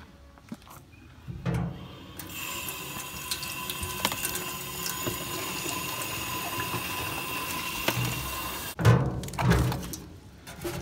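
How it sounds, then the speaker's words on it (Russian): Water is fetched outdoors at a woodland camp, a steady trickling, splashing flow that runs for several seconds, with a few louder knocks and splashes near the end and no talk. "Нужно набрать немножко воды."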